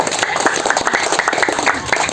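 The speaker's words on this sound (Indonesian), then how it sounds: "Tepuk tangan." An audience at a political rally in Indonesia breaks into brisk, loud clapping, a dense burst of many hands with slightly uneven rhythm, close and filling the space for a couple of seconds.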